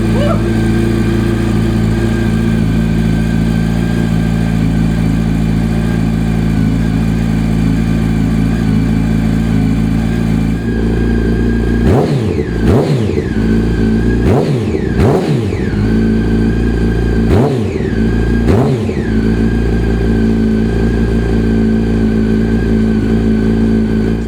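A 2005 Yamaha R1 sport motorcycle with a titanium Akrapovic exhaust idles steadily, then is blipped sharply five or six times in quick succession, each rev rising and falling back to idle.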